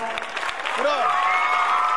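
A school gathering's audience claps in a diffuse, steady patter, with a voice briefly audible over it.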